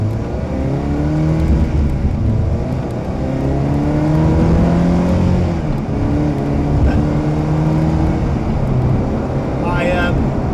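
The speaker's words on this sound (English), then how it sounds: "our Volvo has now got a Ferrari behind it, and he obviously likes his acceleration. Let's see him go." A Ferrari 360 accelerates on an open road, its engine note climbing in repeated rising sweeps, steady and fairly close under constant road and cabin rumble.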